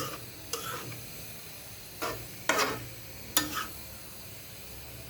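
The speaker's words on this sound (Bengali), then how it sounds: "এখন ভালো করে একটু নাড়িয়ে মশলাগুলো মিশিয়ে দেই।" Liver curry bhuna being stirred with spices in a pan, a steady low sizzle broken by several sharp scrapes and clinks of the spoon against the pan, close and without talk.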